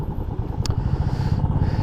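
A convoy of thirty-one motorcycles rides out of Krishnanagar on a road trip toward Darjeeling, engines droning in a continuous, close rumble.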